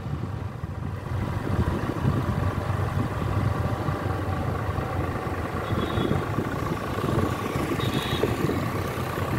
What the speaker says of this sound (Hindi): तो दोस्तों बहुत ही जानदार ट्रैक्टर है।